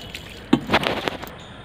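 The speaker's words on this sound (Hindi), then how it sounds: "हमने पूरे पौधे को उस पानी से नहला दिया है जिसमें हमने खट्टी छाछ मिलाई थी" Water mixed with sour buttermilk is splashed over garden plants such as marigold and chrysanthemum, giving a few close, uneven splashing gushes with a sharper splat near the middle and no speech.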